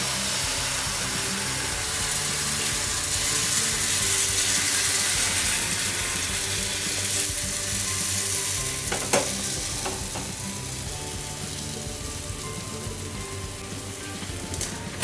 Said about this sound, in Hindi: अब हम गैस को मीडियम फ्लेम पर कर देंगे और तवे के ऊपर अपना बैटर डालेंगे।